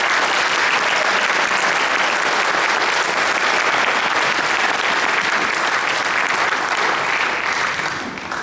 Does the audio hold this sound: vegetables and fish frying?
no